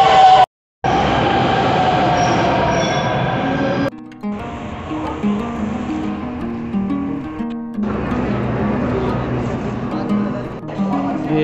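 A Delhi metro train rumbles and hums into Rajiv Chowk station, with a brief cut of silence early on, then steady rolling and electric whine, with faint voices nearby.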